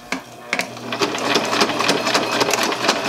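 Sewing machine stitching in quick bursts of rapid mechanical clatter with short pauses between runs, close and fairly loud, with no talking.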